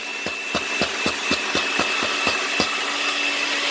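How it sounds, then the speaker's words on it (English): A blender crushing ice, running off a home solar lithium battery powerwall, grinds steadily with a continuous motor whine and regular sharp knocks of ice hitting the blades, loud and close. "Crushing the ice."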